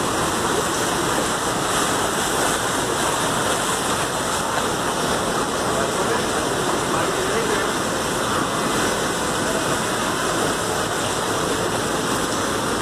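Sewage flood water about three feet deep flowing across a road in Karachi, a steady loud rushing wash that continues unbroken, with no voices.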